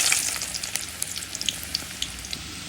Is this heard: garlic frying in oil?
yes